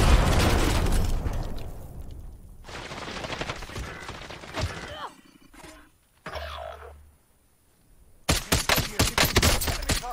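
Cluster strike explosions in Warzone, a loud series of booming blasts and crackling bursts that come in waves and then fall quiet before a final heavy volley.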